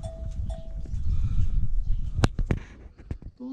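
Lambs bleat several times in short, close calls over a busy rustling village farmyard background, with sharp clicks and knocks near the end.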